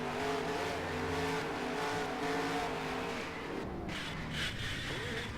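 A race car in a racing video game roars steadily at high revs, its engine tone holding and then dipping and shifting briefly near the end, loud and continuous with no talking.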